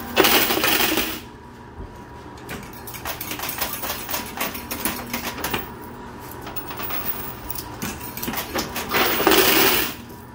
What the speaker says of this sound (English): That was a pretty nice drop of quarters.